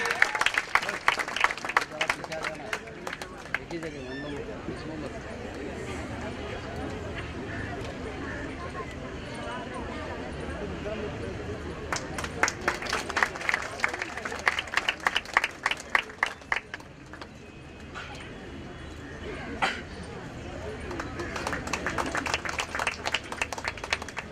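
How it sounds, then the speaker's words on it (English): Audience applause rolls through a hospital golden jubilee celebration: sustained crowd clapping with bursts of sharper hand claps, and voices talking over it throughout. "A big round of applause, ladies and gentlemen, for Joanne."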